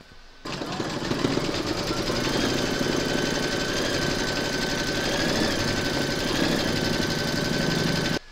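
An embroidery machine stitches an outline round on a quilted placemat applique, starting abruptly into a steady, close mechanical whir and rapid needle chatter that runs evenly before stopping.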